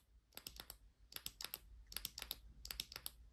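Tail clicky switch of an Acebeam Pokelit CU flashlight being pressed, four quick pairs of sharp close clicks in a steady rhythm with no talking.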